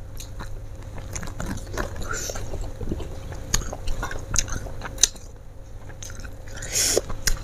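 Close-up chewing of spicy fried tofu, tahu gejrot: wet, squishy bites and soft crunches repeat steadily, fairly loud, with a few louder clicks and brief scraping near the end.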